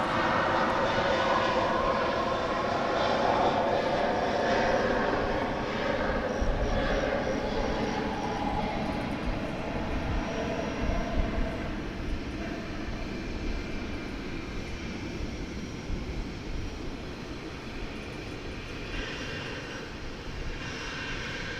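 An American Airlines jet takes off from runway 36 right at DFW Airport, its engines a broad, steady roar that holds loud across the whole stretch with a low rumble underneath.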